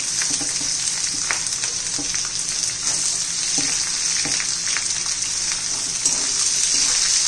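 Green chilli and onion frying in oil with fresh coconut in a pan for tomato potato pohe, a loud, bright, steady sizzle with scattered stirring scrapes and taps, close up and without voices.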